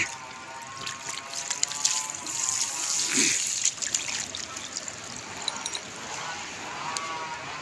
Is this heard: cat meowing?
no